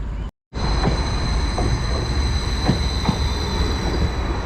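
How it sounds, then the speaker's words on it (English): A Class 755 train pulls into North Walsham station on the line toward Norwich, producing a loud, close, continuous rumble with rhythmic wheel clatter and a steady high whine. A brief gap of silence comes near the start, and no one speaks. "Just arriving here as well is 755401, heading into Norwich here at North Walsham."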